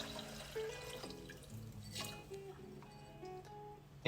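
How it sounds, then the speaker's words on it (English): Water splashes and trickles into a metal pot, close and fairly quiet, with a few drips and clinks. "Next thing, I'll throw some water in there."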